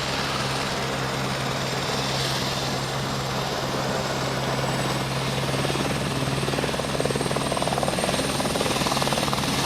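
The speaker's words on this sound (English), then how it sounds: "Helicopter landing in the middle of the field is just cool." A helicopter lifts off from the middle of a high school varsity football field at night, its rotor and engine roar loud, dense and continuous throughout, with a steady low hum underneath.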